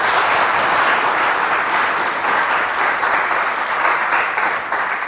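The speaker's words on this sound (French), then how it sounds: "nous recevons pour ce 6e numéro le lycée Al-Afia, que je vous demande d'applaudir très très fort." An audience at a high school competition show in Abéché applauds a visiting lycée with steady, full crowd clapping that holds evenly throughout, slightly muffled and close.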